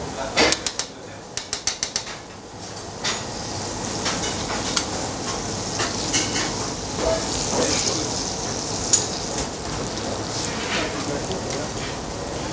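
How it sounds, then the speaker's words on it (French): Caramelizing sugar crackling and sizzling in a pan as butter is added to deglaze it for a mango tarte Tatin, opening with a few sharp clinks and settling into a steady hiss while someone talks over it. "lorsque notre sucre commence à caraméliser, qu'on obtient une belle couleur, on va le déglacer avec le beurre"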